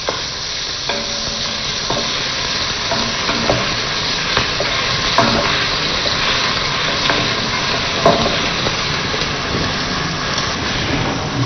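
Onions fry in a pan until golden, a dense steady sizzle with intermittent scraping knocks of a utensil stirring them, close and continuous with no speech.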